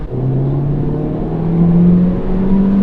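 A 2015 Peugeot 208 GTI accelerates through the gears, heard from inside the cabin as a steady, loud engine drone whose pitch climbs gradually and holds through a higher gear.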